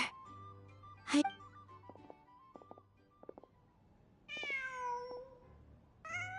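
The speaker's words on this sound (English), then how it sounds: "Just a cat." A cat in Genshin Impact gives a loud meow followed by another drawn-out mewing cry, with soft footsteps and faint game ambience underneath.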